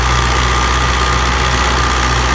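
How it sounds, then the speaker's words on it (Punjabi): A 2004 Fiat 640 tractor engine runs steadily while pulling a 60-blade rotavator, a loud, even diesel drone with a constant low throb and no break or pause. "ਅਤੇ ਟਰੈਕਟਰ ਦਾ ਦੇਖ ਲਓ ਬਲੋ ਜਾਂ ਕੋਈ ਧੂੰਆਂ ਛੂਆਂ ਹੋਵੇ"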